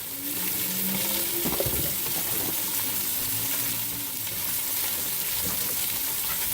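Sausage sizzling steadily in a frying pan, a continuous close crackle and hiss with occasional stirring clinks and scrapes.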